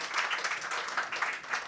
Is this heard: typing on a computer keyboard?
no